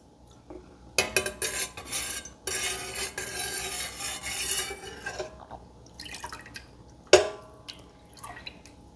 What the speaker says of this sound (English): what I'm doing right now is called the cheesemaker's stir